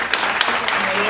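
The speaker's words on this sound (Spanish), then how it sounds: "Un aplauso." Brief burst of applause with some speech mixed in, heard during a casual Spanish-language reaction session.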